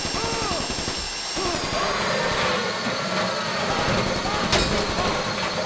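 A steady, high mechanical whine runs throughout, like a drill grinding continuously, with a brief sharp burst of noise near the end, from a drill in Grand Theft Auto V.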